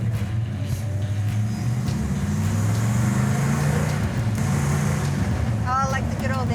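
A 1970 Plymouth Road Runner engine drones steadily from inside the car while it is driven, a constant low rumble with no big revs, and voices come through faintly in the background.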